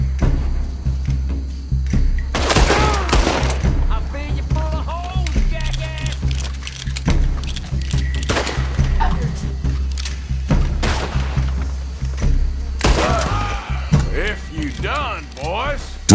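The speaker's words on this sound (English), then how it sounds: "Dual-wielding pistols in Red Dead Redemption 2 became available after the player acquires the offhand holster." Dual-wielded pistols fire in a Red Dead Redemption 2 gunfight, sharp bursts of shots and thuds scattered through the passage over a steady low rumble, with voices talking over parts of it.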